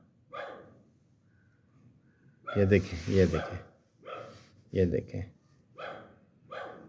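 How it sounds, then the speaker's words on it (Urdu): A dog barks repeatedly in sharp, loud bursts, spaced a second or so apart, with someone talking quietly in between. "مسلسل بھونکنا"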